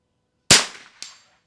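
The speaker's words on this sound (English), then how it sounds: "Let me get that last shot off." A .22 rifle at an NRL22 match stage fires one sharp, loud crack with a short outdoor decay, followed by a fainter second report about half a second later.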